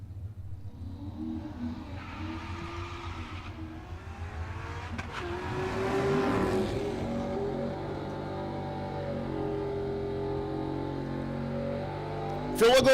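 A ZL1 Corvette with a stick shift launches in a drag racing run at a dragstrip, its engine rising into a loud sustained roar with a steady drone afterward, while an announcer talks over it.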